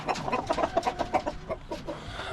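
Several Wyandotte hens cluck in quick, uneven bursts, close by, with overlapping calls from a small flock and no talking.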